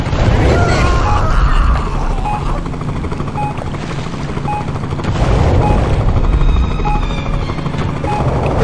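Helicopter in the video game Jaws Unleashed, part of a shark-hunting cutscene: a loud, continuous rotor thump and engine roar close by, mixed with booms and gunfire, with voices talking over it.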